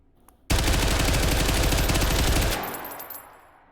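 Full-auto rifle fire from a 25-round Lancer magazine loaded with armor-piercing rounds in a video game: a loud, dense two-second burst of rapid shots that cuts off abruptly, followed by a fading echoing tail.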